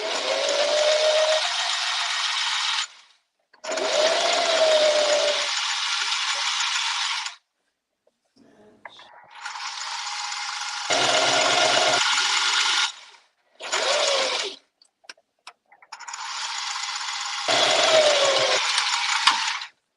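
A sewing machine runs a narrow, skinny stitch with the needle centred, in several sustained bursts of whirring with short pauses and faint clicks between them, close and clear with no talk.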